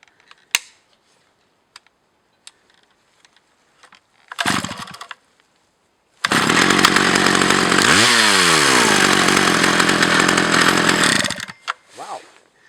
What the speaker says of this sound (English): Wow, this is very nice chainsaw.